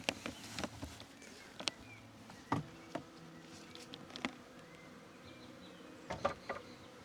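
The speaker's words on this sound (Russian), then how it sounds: "то ли это какая-то уже пчела на запах залетела" A bee or similar insect buzzes faintly around a tea plantation, mixed with scattered soft clicks and knocks in a quiet outdoor setting.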